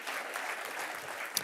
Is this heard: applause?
yes